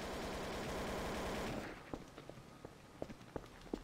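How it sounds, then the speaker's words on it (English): Rapid automatic gunfire in the video game Trouble in Terrorist Town, a loud continuous burst that cuts off, followed by scattered faint single shots and footsteps. "he's shooting at someone"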